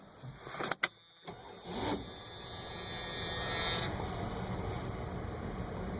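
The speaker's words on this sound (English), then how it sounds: "I'm going to start the Dakota up January 2015, about 26 degrees outside" A 1987 Dodge Dakota pickup's engine cranking and catching on a freezing January day, about 26 degrees, the starter whine giving way to a steady, fairly loud idle that runs on close by with no talk.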